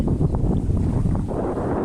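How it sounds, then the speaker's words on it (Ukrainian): Heavy wind from a storm on the water buffets the microphone with a constant low roar and rumble, close and loud, no voices. "Важко, тому що сильний вітер, такий шторм, шторм такий на воді."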